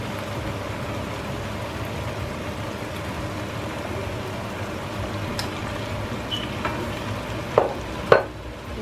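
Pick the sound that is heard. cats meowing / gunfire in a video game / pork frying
pork frying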